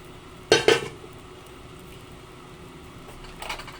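A spoon scrapes and knocks twice against a cooking pot of humba, Filipino braised pork with banana blossom and broth, then a faint clatter follows after a quiet pause with low kitchen hum.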